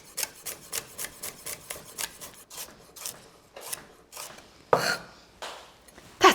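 Knife dicing celery on a board, a quick, regular series of crisp chopping taps close by, slowing slightly toward the end with a few heavier strokes, no voices.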